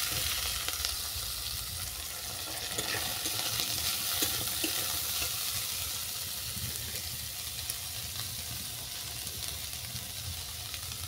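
Soybeans and cauliflower stalks fry in a pan with a loud, steady sizzle and occasional stirring scrapes, with no talking.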